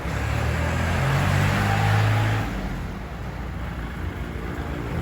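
A Kubota L3218 4WD tractor fitted with a front blade and disc harrow is driven in third and fourth high gear, its engine giving a loud, steady drone that eases slightly partway through.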